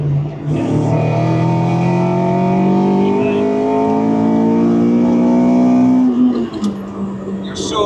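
Honda Integra Type R DC5 heard from inside the car as the engine revs, its pitch climbing steadily for several seconds before dropping back on the next gear.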